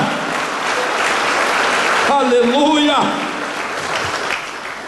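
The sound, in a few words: congregation applause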